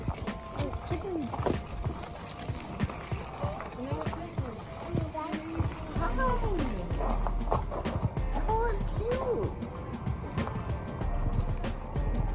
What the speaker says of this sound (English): Here go a donkey.